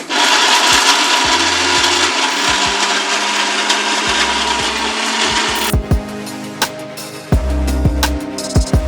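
A kitchen mixer grinder blending dry coconut, black pepper and cumin into masala paste, a loud continuous whirring grind that cuts out and restarts in short rattling bursts near the end.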